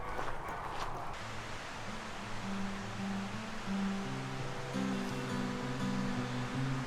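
Chalk Creek, a mountain stream near hot springs in Colorado, rushes steadily with a broad, continuous wash of flowing water, fairly close and unbroken, with no voices.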